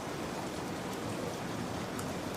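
Steady rain falls in a dense, even hiss with no pauses, a constant wash of noise heard close by.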